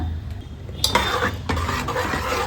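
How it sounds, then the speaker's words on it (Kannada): Jowar grits stirred in a cooking pot for a North Karnataka dish, giving a close scraping and stirring sound with a few sharp clinks against the metal, no voices. "ಚೆನ್ನಾಗಿ ಮಿಕ್ಸ್ ಮಾಡ್ಕೊತ ಬೇಯಿಸ್ಕೊಳ್ಬೇಕು."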